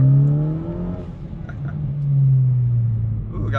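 A 2018+ Hyundai Elantra GT Sport fitted with an aFe axle-back exhaust revs up and falls back twice, ending in low burbles and pops close by.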